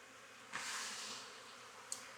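Steady buzzing from many honeybees at a hive, a dense hiss-like drone that swells briefly, with a couple of sharp clicks or bumps close to the mic.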